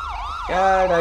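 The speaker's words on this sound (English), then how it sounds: "they knew how to shut off their sirens. Oh, here comes the ambulance." A wailing siren sweeps up and down, then shifts into a louder, steady multi-tone wail as the vehicle draws nearer.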